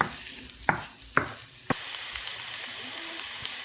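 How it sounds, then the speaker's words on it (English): Onions and tofu cubes frying in olive oil: a steady, dense sizzle throughout, punctuated by three sharp utensil taps or scrapes early on, close and moderately loud, with no voices. "just add the onions to that, and later on add the tofu cubes, and just let that fry for a little while"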